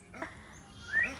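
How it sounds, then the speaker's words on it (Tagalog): A dog at a house during a post-Christmas gathering gives a brief, faint whimper or yip, quiet and close, lasting only a moment. "May aso."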